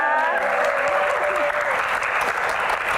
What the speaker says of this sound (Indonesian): tepuk tangan yang paling meriah untuk trio Diva Dangdut kita